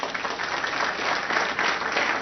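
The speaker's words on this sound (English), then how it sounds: "So let's give a big round of applause." Steady audience applause fills a forum hall at a county gardening event, a dense even wash of many hands clapping close and loud throughout, with no voices over it.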